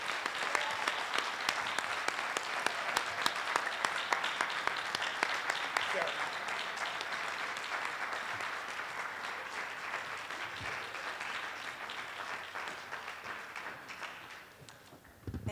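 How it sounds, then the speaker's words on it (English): A town hall audience on youth violence applauds a panel in steady, dense clapping that runs throughout and thins slightly toward the end, heard at moderate distance. "how about a real round of applause for these folks?"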